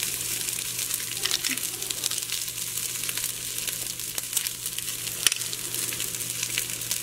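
Garlic sizzles in a pan with browning rice and onion, a steady soft frying hiss with occasional stirring scrapes.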